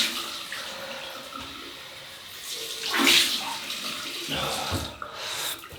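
Water running from a tap and splashing as a face is rinsed after shaving, close and uneven, with bursts of splashing and a louder gush in the middle before trailing off.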